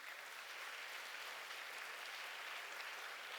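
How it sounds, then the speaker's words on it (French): Audience applause at a French-speaking community event as a chaplain of the Chinese Catholic mission is called on stage, a steady, even wash of many hands clapping, somewhat distant and soft. "sous vos applaudissements, le Père Georges Chung."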